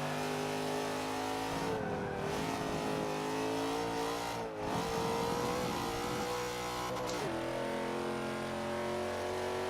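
Car engine revving and accelerating hard in a racing video game, the tone climbing through rising gear pulls with brief dips at shifts, loud and continuous throughout with no talking.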